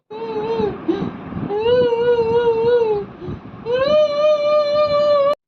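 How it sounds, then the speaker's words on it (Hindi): A girl cries as a sound effect in a Hindi audio story, three drawn-out wailing sobs separated by short breaths, close and fairly loud with no talking. "मैं एक लड़की की रोने की आवाज़ सुनाई दे रही थी मुझे"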